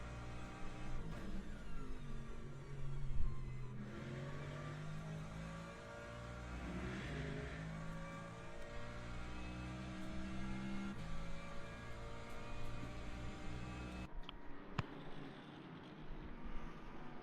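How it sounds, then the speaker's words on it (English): A race car engine in the racing video game Le Mans Ultimate, at the 6 Hours of Qatar, drones steadily with rising and falling revs, harmonic engine tones sliding through gear changes, continuous and fairly close, without talk. "I love how this car sounds."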